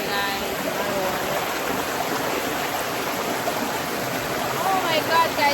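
Steady rushing water, like a stream or small waterfall, runs loud and continuous with a brief surge near the end, with no voices over it.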